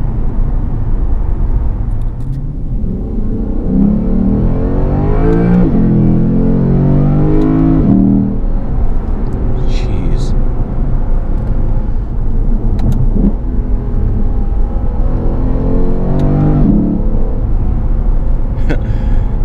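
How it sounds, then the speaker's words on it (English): A 2018 Lexus GS-F with active sound control switched off, its engine rumbling and swelling through a couple of revs, heard from inside the cabin with steady road noise underneath. "So that's without the active sound control."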